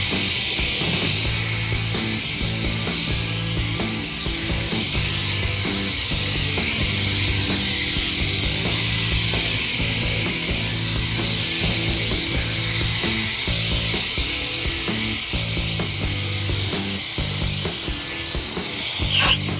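An EGO 580 CFM leaf blower runs on its turbo setting, producing a loud, steady rushing roar of air that holds constant throughout without pause.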